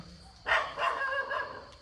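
Dogs bark abruptly after a short quiet moment, a burst of barking and yelping that carries on for over a second at moderate distance.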